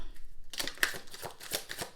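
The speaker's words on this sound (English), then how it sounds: "Let me just shuffle one more time." Tarot cards being shuffled by hand in a few quick riffling bursts, close and fairly quiet, with a brief pause after an opening stretch of near silence.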